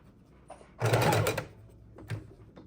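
A sewing machine stitches fabric scraps and lace into snippets and ruffles for a junk journal: one loud, close burst of stitching lasting under a second, then quiet handling noises.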